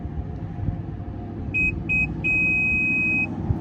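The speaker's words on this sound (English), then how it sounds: "Let's push and hold it for 2 sets of beeps." A 2021 Mazda CX-5 power tailgate gives two short electronic beeps followed by one longer sustained beep while resetting its height, high-pitched and clear over a constant low rumble of background noise.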